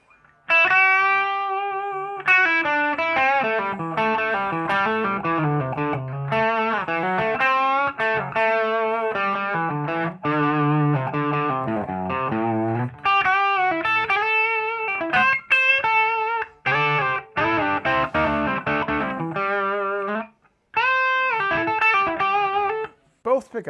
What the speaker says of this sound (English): we'll stay on that bridge pickup and go to mild distortion.